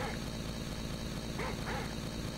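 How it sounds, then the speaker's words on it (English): Dogs in the video game Brutal Doom, a couple of faint yips over a loud, constant droning game ambience. "I hear some dogs."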